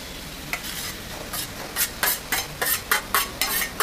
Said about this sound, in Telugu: ఇవి ఎగ్స్ వేసుకొని స్లోగా కలుపుకోండి, లేకపోతే పేస్ట్ అయిపోతుంది.